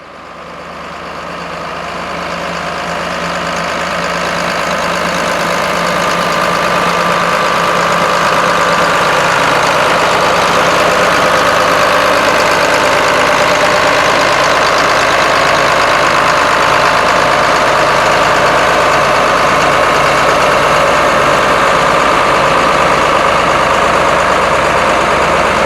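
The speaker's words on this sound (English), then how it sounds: "this tractor spends most of its time in the pile moving backwards very slowly," A classic John Deere tractor packing corn silage, its engine idling and running steadily at a close, loud and constant level for the whole stretch, with a slight rise at the start and no talk.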